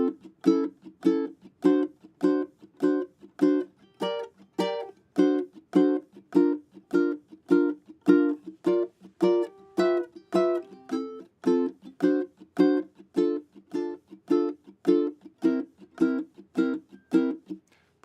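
Steady guitar strumming in an even, repeating rhythm, each strum bright and ringing, played alone with no talking.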